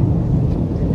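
A heavy summer downpour over Kyiv with thunder gives a deep, continuous low rumble and steady rain noise, loud and close, with wind buffeting and no talking.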